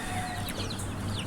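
Native chickens and roosters clucking on a farm, soft overlapping clucks and short calls at close to moderate distance over a steady background hum.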